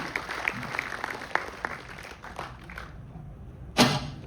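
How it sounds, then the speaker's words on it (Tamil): The audience at a Tamil language festival claps after a villu paattu bow-song performance. The applause is moderately distant and thins out over a few seconds, then a single sharp knock sounds near the end. "மீண்டும் அவர்களுக்கு கைத்தட்டல்களை தந்து அவர்களுக்கு நாம் விடை கொடுப்போம்"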